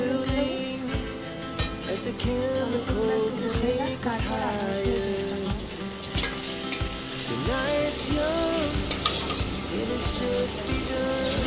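Tomatoes fry in a pan after the onions for a curd chicken dish, with a steady loud sizzle and repeated scraping and clinking of a spoon as they are stirred.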